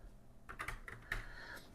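Key clicks from an Atari ST / Falcon keyboard, a series of uneven taps in quick succession with a slightly heavy touch, close and fairly quiet, no voices.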